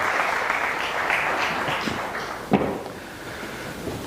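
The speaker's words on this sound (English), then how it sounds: "A big round of applause to Architect Manish Banker." A crowd at an interior design association's investiture ceremony applauds as an architect is welcomed on stage, a steady, moderately loud wash of clapping with one sharper thump midway, heard alone without talk.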